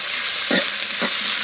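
Onion and tomato frying in mustard oil with black cumin for a fish curry, a loud, close sizzle broken by two soft stirring scrapes.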